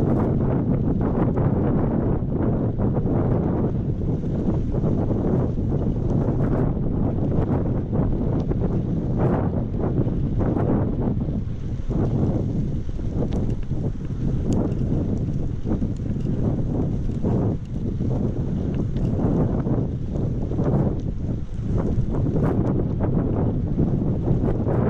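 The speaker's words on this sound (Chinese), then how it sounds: "嗖嗖的凉风啊吹过来" Cold winter wind at zero degrees on a bike ride through Yuli Village in Fengxian, Shanghai, roaring hard and constant across the microphone with gusty surges.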